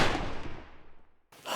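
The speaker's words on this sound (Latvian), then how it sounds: "izdarām 2 šāvienus" A rifle shot fired during advanced rifle training: a loud sharp crack whose echo fades away over about a second, then a second report begins just as the sound ends.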